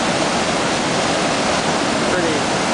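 Water pours steadily over Coon Rapids Dam in Minnesota, a constant broadband roar of falling water heard up close and fairly loud throughout, with no other sound standing out.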